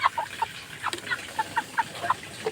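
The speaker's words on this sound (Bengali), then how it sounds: "দেখো মুরগি বাবা মুরগি" Broiler chickens cluck close by on a farm in a quick, irregular series of short, clipped notes over a quiet background.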